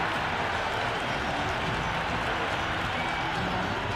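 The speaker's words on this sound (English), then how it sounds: "Will you listen to that crowd? They are loving this." Cricket stadium crowd at an IPL match between KKR and PBKS roaring after a six, a dense, sustained wall of cheering and clapping with voices mixed in.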